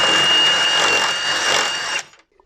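A 6.5mm drill whirs at steady high speed for about two seconds while boring into a Mitsubishi Pajero Generation 4 during a towing mirror installation, then stops abruptly, loud and close.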